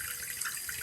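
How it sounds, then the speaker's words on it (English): Warm water running from a sink tap while rinsing exfoliant and a gel mask off a face, a steady close splashing flow with no talking. "I wipe everything off with warm water."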